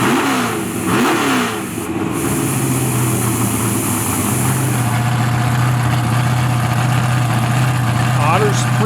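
A nitrous-fed Chevy Camaro and a Mustang sit at a drag strip start line, their engines droning loudly and steadily with occasional revs, under a commentator's voice.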